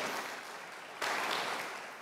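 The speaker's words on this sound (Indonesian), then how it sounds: "beri tepuk tangan untuk Tuhan" A church congregation at a worship service claps faintly and steadily, with the applause swelling briefly about halfway through before easing.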